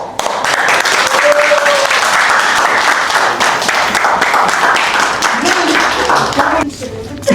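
A stand-up comedy crowd bursts into loud, sustained applause and dense clapping at the end of the show, steady for several seconds before tapering off, with faint voices mixed in.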